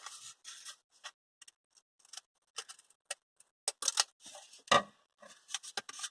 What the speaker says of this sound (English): Get the scissors, cut along the lines.